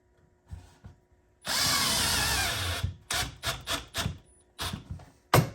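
A power drill whirs loudly for about a second and a half while drilling into wood, followed by a series of short bursts of drilling and clattering, close by.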